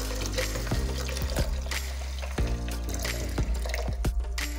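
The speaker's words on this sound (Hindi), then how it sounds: "अब डालेंगे हम पानी।" Water poured steadily into a grinder jar for an almond and pistachio sharbat, a continuous close trickle and splash with light clinks over a low hum.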